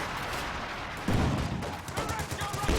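An artillery barrage fired from behind a church in the strategy game Company of Heroes 2 sounds as a burst of booming impacts and crackling gunfire, packed close together and fairly loud.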